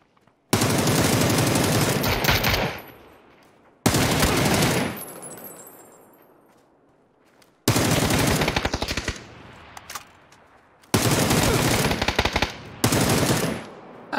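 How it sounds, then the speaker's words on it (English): Gunfire in the video game PUBG: four loud bursts of rapid automatic fire, each lasting one to three seconds and separated by short pauses with decaying echo. "Just shooting at these guys."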